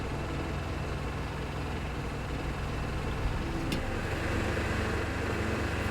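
A car engine in The Vanishing of Ethan Carter game idles steadily with a low, continuous rumble, a brief sharp tick partway through before the running drone carries on alone.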